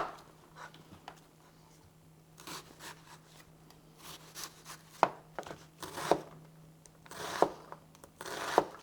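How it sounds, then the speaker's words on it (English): Onion cut up for stuffing and sauce: soft knife strokes through the onion that turn into a run of crisp, close chops landing on a board, several clearly separated hits toward the end over a quiet hum. "So I cut this onion, the large one for the stuffing, the small one for just the sauce."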